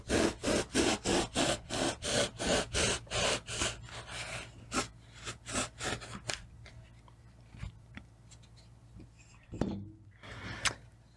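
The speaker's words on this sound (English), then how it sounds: "I'm going to take my hacksaw and just take a chunk off of this." Hacksaw cuts a chunk off a block for a custom holster wedge, with a quick run of rhythmic rasping strokes close up that slows into scattered scrapes and knocks.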